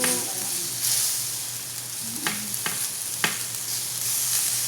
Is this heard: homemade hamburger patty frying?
yes